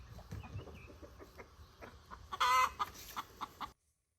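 Broody hens in a homestead coop clucking close by, a run of short irregular clucks building to a louder agitated squawk before cutting off.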